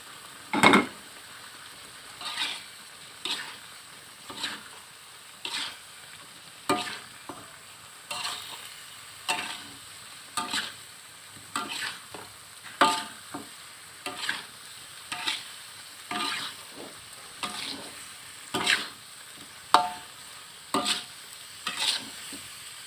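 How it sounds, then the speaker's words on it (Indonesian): Beef pieces stir-fried with rendang spice paste in a pan: a steady low sizzle with regular scraping strokes of a spatula, roughly one every second, close and moderately loud, no voices. "Setelah bumbunya sudah kurang lebih tercampur rata, kita masukkan daging."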